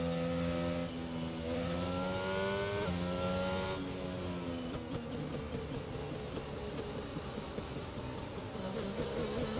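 Race cars circle a track behind a safety car, engines droning steadily with rising and falling pitch as they change gears, the sound continuous and moderately loud throughout with no talk over it.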